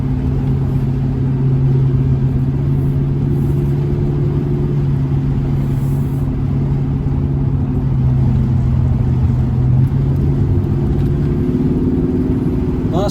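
A deep, steady V8 exhaust rumble with an H-pipe while driving a 1970 El Camino, low and throbbing, heard from inside the car with road noise and no talking.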